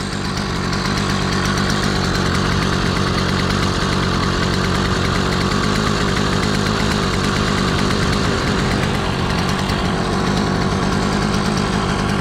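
An 80cc bike engine with a freshly cleaned NT carburetor idles with its idle screw set a little low, giving a loud, continuous, raspy buzz close by with no pauses.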